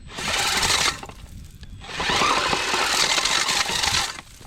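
An ice-fishing motor, likely an ice auger, revs high in two long, loud whining runs separated by a short drop in speed, with no talking.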